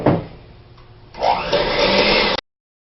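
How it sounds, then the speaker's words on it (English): An electric mixer creams butter and sugar for chocolate cookies, starting after a quiet pause with a loud, steady whirring drone that runs for about a second and then cuts off abruptly. "we have our creamed butter and sugar with our mixer"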